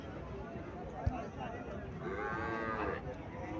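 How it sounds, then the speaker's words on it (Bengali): A cow moos at a livestock market in Cumilla, Bangladesh, with a Sahiwal calf nearby. The call rises from the middle of the clip over a steady murmur of crowd noise and voices. "এখানে একটা গাভী দেখা যাচ্ছে।"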